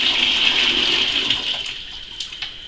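About 1.5 litres of freshly boiled water gushes from a container onto sugar in a vessel while blackberry wine is being made at home, a loud steady pouring rush that thins out and ends in a few splashes.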